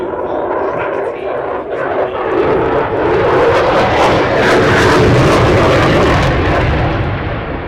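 A Eurofighter Typhoon jet painted with invasion stripes roars past during a practice display, a loud broad engine rumble that swells and holds, with people talking over it.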